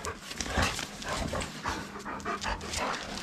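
Several dogs pant hard and rapidly in a steady, close rhythm while playing on a cool day, the breathy huffs continuing without pause and no voices over them.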